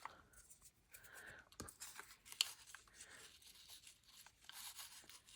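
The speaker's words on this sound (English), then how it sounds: "what I could do here is rip this off" A paper scrap being torn by hand for a junk journal cluster makes soft, faint ripping and rustling in short uneven bursts, close by and quiet, with no talking.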